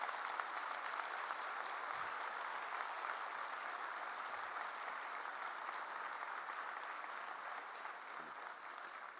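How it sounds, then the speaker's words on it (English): Sustained standing ovation at the inaugural function of a Karnataka state judicial officers' conference, honouring the Chief Justice of India: dense, steady applause from a large hall audience throughout, with no talking over it. "A standing ovation for the CJI."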